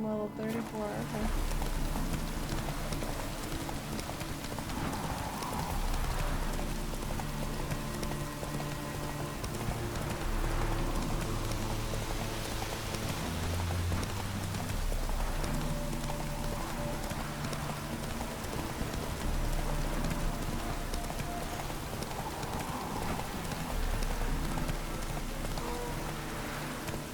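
Roach, the horse in The Witcher 3, gallops with steady hoofbeats under constant game rain and ambient music, with someone talking over it throughout.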